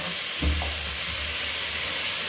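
Cubed potatoes and eggplant fry in masala in a pan for a dry vegetable dish, giving a steady close sizzle with a couple of soft scraping stirs near the start.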